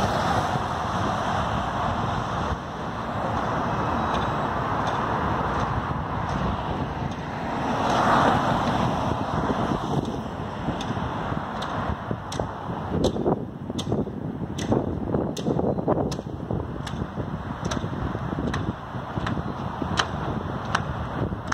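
Wind gusts sweep across a bridge plaza in Fort Lee, New Jersey, with a steady rushing roar and fluctuating buffeting, and a series of sharp clicks or taps grows more frequent in the latter half.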